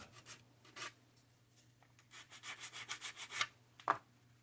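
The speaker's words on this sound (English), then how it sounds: "So let's try sanding this a little bit." Irregular strokes of sanding a plastic 1/32 scale Hawker Tempest model part, short rasping scrapes that grow busier and louder toward the end, close up and otherwise quiet.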